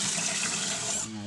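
Tap water runs steadily into a basin while rice is being washed, a close, continuous splashing hiss that cuts off abruptly near the end, with a voice talking faintly underneath.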